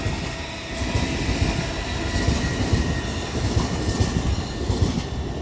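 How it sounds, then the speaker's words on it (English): A five-car GWR class 800 IET departs Reading station toward London Paddington. It gives a steady, fairly close rumble with rhythmic clickety-clack of wheels on track and no voices. "Now departing is going to be, unfortunately, our final train of today here at Reading"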